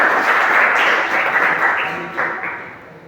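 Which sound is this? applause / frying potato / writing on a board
applause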